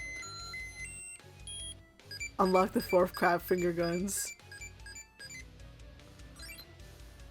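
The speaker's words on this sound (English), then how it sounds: "you get to listen to the Tamagotchi beeping on top of everything else" A Tamagotchi toy sounds a series of short electronic beeps and tones from close by, mixed with game music while a person speaks.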